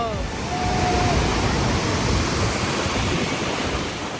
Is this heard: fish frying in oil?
no